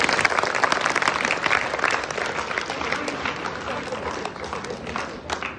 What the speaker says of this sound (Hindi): इसके लिए एक बार शानदार तालियां तीनों के लिए।